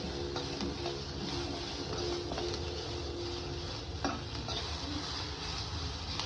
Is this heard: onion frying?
yes